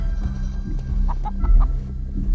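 A giant chicken in the video game Chicken Feet clucks in a few short, close bursts over a steady low game hum, with no talk.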